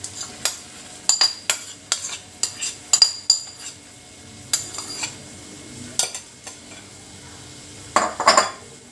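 A utensil stirs mushroom and spinach paste in a pan, giving a run of sharp metallic scrapes and clinks in an uneven rhythm with faint sizzling beneath and a louder scraping burst near the end.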